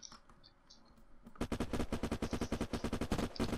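Rapid automatic gunfire in the video game Unturned, a dense burst of about twenty evenly spaced shots that starts after a quiet lead-in, loud and close with no talk.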